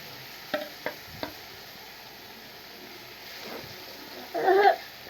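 Fish rubbed with dried chili powder, salt and turmeric in raw oil sizzles in a pan, faint and steady, with a few sharp taps and a brief louder bubbling spurt toward the end.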